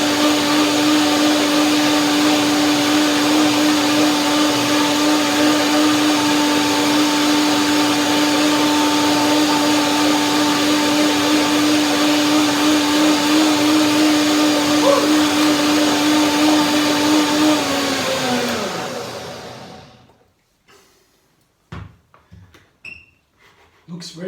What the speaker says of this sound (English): So now I will go back to my curd, blend one more time